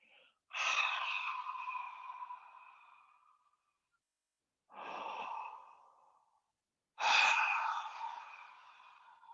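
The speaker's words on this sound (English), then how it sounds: "it becomes sort of the ocean breathing sound" Three long, slow yogic breaths drawn in and out through the nose with a soft, hissing, ocean-like rasp, close and steady, separated by silent pauses.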